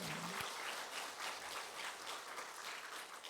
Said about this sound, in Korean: 하나님께 영광의 박수요.